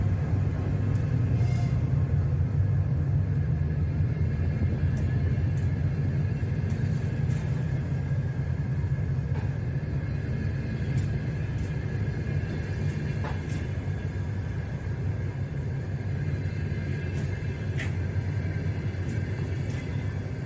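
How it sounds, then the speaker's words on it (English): Steady, loud rumble of a long train rolling into Kherson City, a continuous low drone with wheel and rail noise sustained throughout and no voices. "here's the video of the first train ever entering Kherson City"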